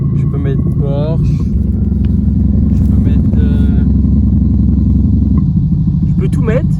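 Simulated Porsche engine note played through the sound system of a BMW 530d F10 diesel, a loud steady idle rumble running throughout while someone talks over it.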